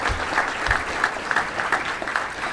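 An audience at a touchdown club luncheon breaks into a round of applause, a dense, steady clapping of many hands that fills the room evenly for a couple of seconds.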